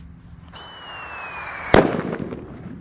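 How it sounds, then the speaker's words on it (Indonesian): A Whistling Thunder firework gives a loud, piercing whistle that slides slightly downward for over a second, then ends in a sharp, booming bang with a short rumbling tail. "di sini ada Whistling Thunder guys. Kita nyalakan. Ini suaranya menggelegar ini guys."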